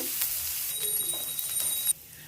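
Chopped onion sizzling and being stirred in a hot pan while cooking palak pappu, a steady close hiss with scraping stir sounds and a brief high ringing tone before the sizzle drops away near the end.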